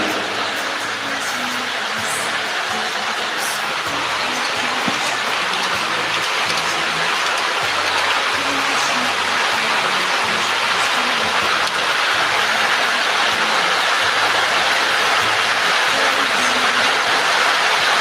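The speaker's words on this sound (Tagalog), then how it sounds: "Wala, lakas ng ulan sa amin." Heavy rain pours in a continuous loud hiss that builds slightly over time, with no clear voices over the downpour.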